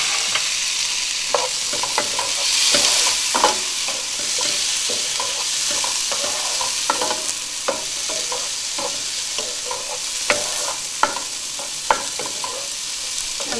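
Tomato is added to a frying mix of cauliflower and potato for aloo gobi, bringing a loud, close sizzle broken by repeated sharp scrapes and clacks of a spoon stirring in the pan, with no voices.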